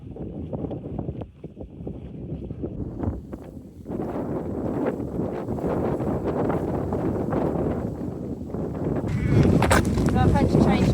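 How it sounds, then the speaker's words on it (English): Strong headwind buffets the microphone of a runner out on a park run course, a dense low rumble that roars steadily throughout, with brief dips and a louder gust near the end. "The headwind on my return leg, I just felt it was too strong"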